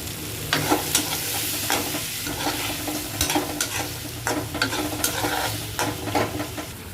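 Sliced onions fry for beresta in a pan, a dense continuous sizzle close by, broken by frequent scraping stirs and clinks of a spoon against the metal.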